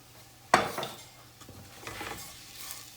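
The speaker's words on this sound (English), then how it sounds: "We're just incorporating the onion and the garlic into the breadcrumbs." Onion, garlic and breadcrumbs stirred in a cast iron pan with a utensil, one sharp clank of metal followed by scraping and faint sizzling, close and clear with no voices.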